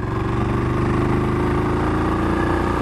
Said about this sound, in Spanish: Como pueden escuchar, el ruido del motor